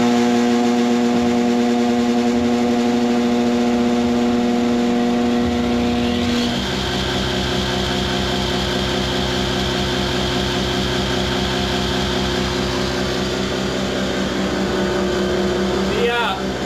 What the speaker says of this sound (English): The alternator is running. Everything sounds normal at this point